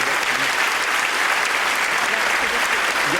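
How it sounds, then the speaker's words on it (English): A large crowd at a British awards ceremony claps loudly and continuously in a dense, even roar of applause. "So can we have a round of applause for that,"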